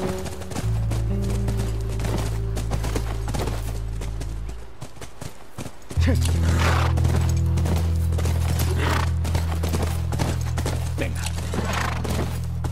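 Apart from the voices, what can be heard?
horse galloping in video game The Last of Us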